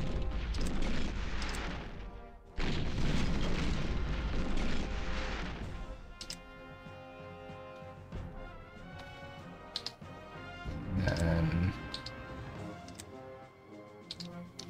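Artillery fire in the Panzer General II strategy game, with booming blasts and crashes over a steady tick-tock game sound that runs through most of the stretch; a louder burst rises toward the end.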